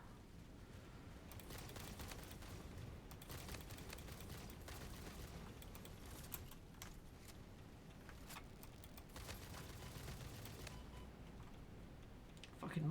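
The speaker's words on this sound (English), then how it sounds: "Oh, I hear gunfire." Faint, distant gunfire crackles in scattered rapid bursts inside the factory-building video game Satisfactory, forming a low, busy rattle that continues throughout.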